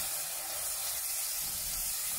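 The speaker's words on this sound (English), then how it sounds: "Alright, a few splashes of water." Water splashed into a hot, oiled cooking pan while making Bombay potato and aloo gobi gives a steady, fairly quiet hissing sizzle that lasts the whole moment, with no voices.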